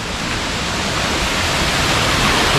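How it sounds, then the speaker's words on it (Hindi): Godhgol waterfall near Kanker, Sarona, cascading into a lake, giving a steady, dense broadband roar of rushing water with no breaks, no voices, and a constant level throughout. "तो गाइस ये जो आप लोग देख सकते हैं वाटरफॉल"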